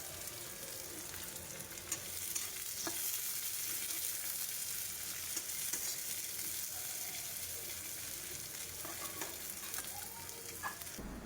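Onion fries in oil in a wok, a soft continuous sizzle and crackle held at low volume with occasional small pops and clinks throughout.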